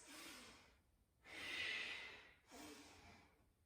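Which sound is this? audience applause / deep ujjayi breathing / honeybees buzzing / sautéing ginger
deep ujjayi breathing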